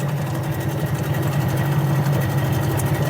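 A Storm 13.5 two-stroke outboard engine idles steadily during winter storage, giving a close, continuous low rumble with an even, fast putter and no voices.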